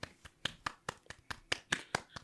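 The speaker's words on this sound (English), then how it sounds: "Y'all clap it up for the boy." A few people clap unevenly and sparsely, with about eight or nine distinct, close hand claps spaced irregularly across a quiet room.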